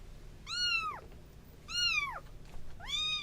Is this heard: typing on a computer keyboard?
no